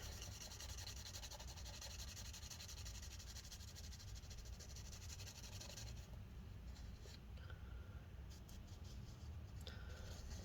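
Steady close scraping and rubbing as JB Weld epoxy is stirred and scraped together in a small container, a continuous gritty texture with a few sharper scratches toward the end.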